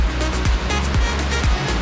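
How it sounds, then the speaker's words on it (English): A tall indoor waterfall inside Niagara Cave roars as a loud, steady broadband rush that fills the cave, with faint thuds beneath and no voices. "Serious indoor waterfall."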